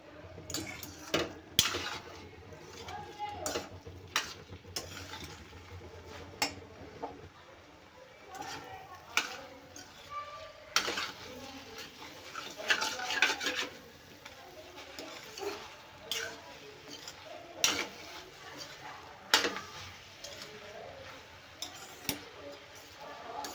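Vegetable sabzi being stirred in a pan, with repeated scraping and clinking of a spoon against metal cookware in short irregular bursts throughout, close by, with some background noise.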